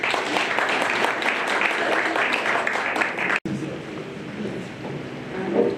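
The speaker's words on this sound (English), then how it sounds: "Let's please give her a round of applause as she comes to the stage." A crowd at an excellence awards ceremony at the Rand Water Zwartkopjes pumping site applauds steadily as a woman walks to the stage; after a brief cut, quieter room noise and chatter follow.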